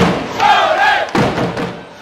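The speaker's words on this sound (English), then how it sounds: "the sold-out crowd's admiration for Parker gives way to their desire to see the hometown team win." A sold-out basketball arena crowd in Cholet, France roars and cheers, a dense wall of voices swelling and dipping over two seconds with a sharp thump near the middle.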